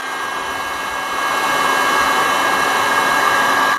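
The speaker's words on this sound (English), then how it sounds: "So now the heat shrink tubing. And with my heat gun," A heat gun blows continuously while shrinking heat shrink tubing on a battery setup wire, a loud steady fan roar that swells slightly after the first second and cuts off at the end, with no speech.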